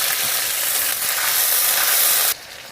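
Ground spice paste with cumin and bay leaf hits hot oil in a pan for a Bengali fish curry, making a loud, dense, continuous sizzle that cuts off abruptly near the end.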